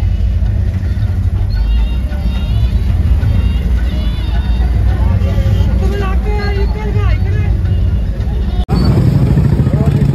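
A packed road near a temple during a pilgrimage rush, with a loud, constant hum of crowd chatter, traffic rumbling and occasional bleating; a sudden jolt near the end shifts the sound, then the busy din carries on.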